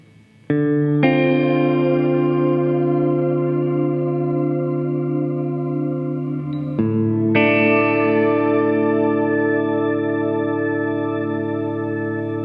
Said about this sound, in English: Shimmer is an ethereal reverb with cascading octave shifts.